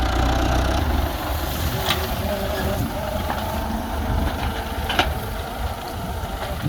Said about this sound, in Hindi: ये देखें, ट्रैक्टर के ज़रिए से हम अब इनको इकट्ठा कर रहे हैं।